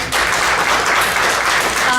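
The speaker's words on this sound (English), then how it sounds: "Give a round of applause to the" At an orchestra film night, the audience gives a continuous round of applause, close and full, holding a steady level throughout with faint voices mixed in.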